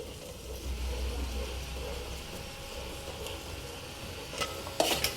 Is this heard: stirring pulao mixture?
yes